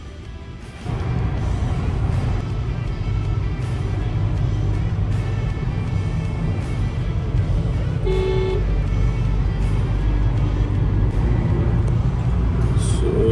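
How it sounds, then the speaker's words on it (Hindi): Car traffic in Jalandhar heard from inside a vehicle stuck in a jam, with a steady engine and road rumble throughout and a short horn honk near the middle, plus a few fainter toots. "अभी ट्रैफिक के अंदर अटक गए हम लोग"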